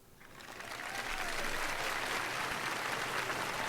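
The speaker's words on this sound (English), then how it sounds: "I think it's just normal claps this time around." An esports crowd applauds during a StarCraft II PvT match at the WESG German Qualifiers, steady dense clapping that swells in over the first second and then holds loud and even.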